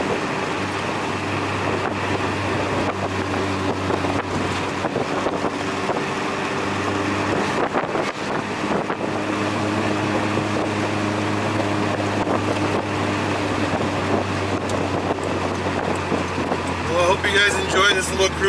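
A Volkswagen MK4 GTI's engine drones steadily under hard throttle on an open straight, with wind noise around the microphone.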